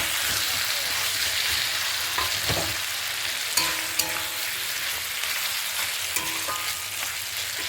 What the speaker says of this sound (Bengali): হালকা হালকা মাটনটা দিয়ে একটু কষাতে হবে ভালো করে